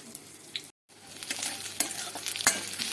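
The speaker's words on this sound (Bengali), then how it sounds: "পেঁয়াজ লঙ্কাটা মোটামুটি ভাজা হয়ে গেছে" Onion and chilli fry in a pan for a bitter summer curry, a steady sizzle under scraping stirring strokes, with one brief gap and a couple of sharp clinks, close and alone.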